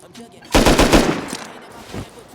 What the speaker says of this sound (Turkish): Ben patlayıcı mermi sıkıyorum ya.